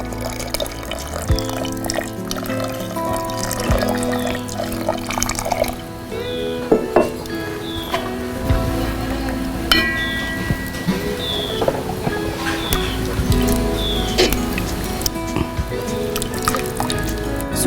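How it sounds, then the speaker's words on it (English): Milk poured into a pot of cooking lapshi, a cracked-wheat dish, giving steady liquid pouring and dripping with small splashes against a background hum, close and moderately loud. "So now I'll add the milk"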